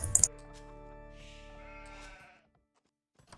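A single sheep bleats in the Age of Empires video game, preceded by a short sharp click and ending in a brief fade.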